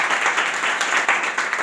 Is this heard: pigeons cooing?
no